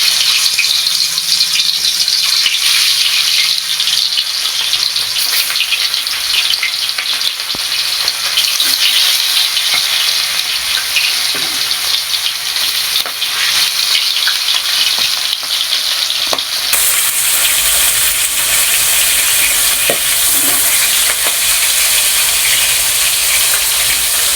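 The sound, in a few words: chela fish frying lightly in oil in a wok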